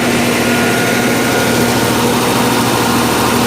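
A diesel generator runs steadily at an outdoor sound-system setup, giving a loud, continuous engine drone with a constant low hum and no pauses.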